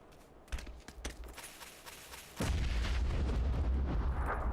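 Grenade explosions in a shooter video game: a few sharp distant pops, then a heavy blast that swells into a sustained loud roaring rumble.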